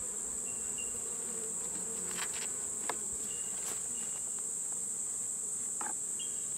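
Honeybees buzzing around a beehive nuc during an inspection, a steady dense hum with a few individual bees passing close, no talking.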